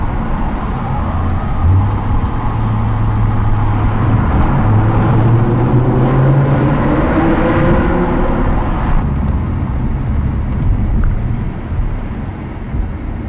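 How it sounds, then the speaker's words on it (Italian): BMW M6 fitted with a Supersprint exhaust on a Swiss valley road in Val Verzasca, its engine drone steady and loud, rising in pitch as it accelerates and then easing off, with wind rush throughout. "vi ho fatto sentire un po' di sonoro e un po' della Super Marmitta con lo scarico Super Sprint"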